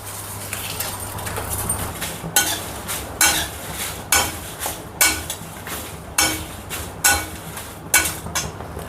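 Whole spices—green cardamom, cloves and bay leaf—being dry roasted in a pan, with a steady series of sharp scraping and clinking strokes of a spoon against the pan, close and fairly loud, with no talking.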